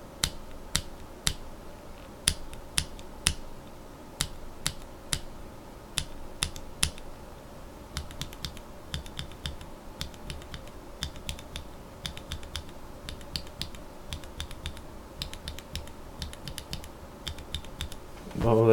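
Mechanical keyboard switches fitted with Panda tops bottom out, first as sparse, sharp single clicks, then as a long fast run of quieter overlapping clacks, close and clear over a low hum.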